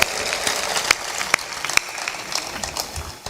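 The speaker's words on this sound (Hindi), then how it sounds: "तालियां जोर से बजा दिया करो।" An audience at a Hindi sermon breaks into steady, dense applause, moderately loud, with some sharper claps standing out and no speech.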